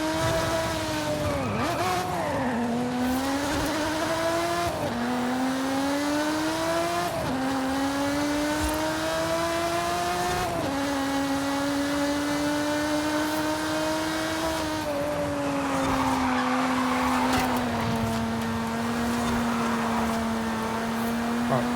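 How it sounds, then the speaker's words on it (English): A car engine in the racing game Forza Horizon 5 revs steadily and loudly, its pitch climbing and dropping through gear changes with occasional tire squeal, no voices. "even the stock engine sounds really good on the screen"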